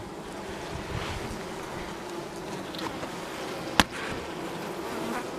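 A steady, dense buzz of many honey bees at a hive hums throughout, with a single sharp click near the end.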